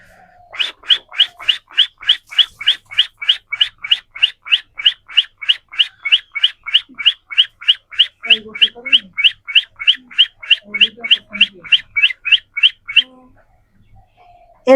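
A blind performer's whistled imitation of an oriental magpie-robin's call: a long, fast, even series of about forty bright, near chirps, with faint talk in the background near the end.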